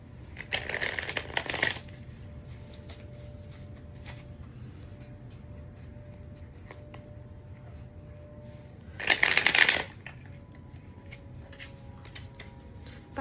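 Tarot cards are shuffled in two short riffling bursts, about a second each and several seconds apart, close and crisp against a quiet room hum.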